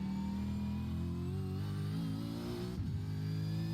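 A V8 Supercar engine revs on throttle, a loud, steady harmonic growl whose pitch climbs and then dips near the end as the driver shifts, heard up close with no talk over it.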